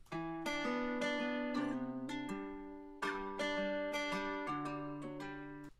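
The main guitar part of the song plays as a run of ringing chord plucks in a gentle repeating rhythm, moderately quiet and alone, with no talking.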